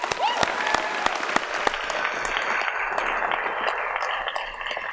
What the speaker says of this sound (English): One big round of applause for that.